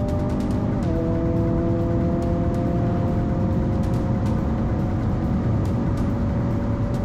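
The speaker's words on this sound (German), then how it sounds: "Auf der Gegengeraden rührt der Kona mit Vollgas Richtung letzter Kurve." A Hyundai Kona N accelerating at full throttle down a racetrack straight, its engine a loud steady drone that climbs in pitch after an early gear change, with continuous road and wind roar throughout.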